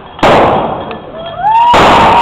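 Firecrackers set off with a lighter in Olintla, a loud sharp burst at the start followed by a rising whistle-like streak, then another strong crackling blast near the end, with voices heard around the explosions.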